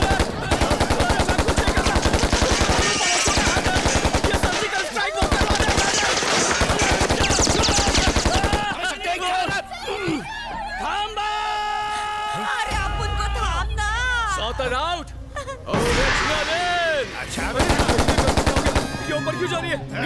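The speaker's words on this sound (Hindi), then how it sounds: "कहाँ गोली चला रहा है?" Gunfire with rapid machine-gun bursts in a dramatic comedy scene, loud and dense over music and effects, returning in heavy volleys near the end.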